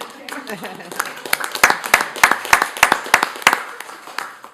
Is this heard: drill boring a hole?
no